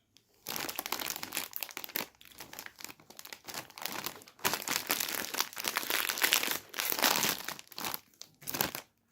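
Snack bags crinkle and crackle close up as they are torn open, loud bursts of plastic rustling in uneven spurts separated by brief quiet pauses.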